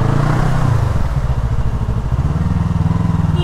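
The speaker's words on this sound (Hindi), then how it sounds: "अच्छा ये वाला ट्रायम्फ स्ट्रीट ट्रिपल, बहुत अच्छा लगा देख के बहुत दिनों के बाद। काफी अच्छा बाइक है।" A Triumph Street Triple motorcycle engine running close by in traffic, a steady loud throbbing rumble with a slight rise in revs partway through, no talk over it.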